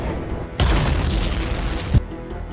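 Explosion sound effect of an enemy fighter plane blown from the sky, a loud sustained boom lasting over a second and ending in a sharp thud.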